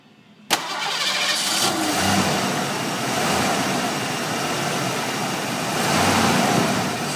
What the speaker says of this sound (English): Go ahead and crank it up.